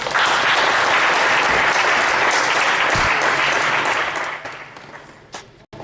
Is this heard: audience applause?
yes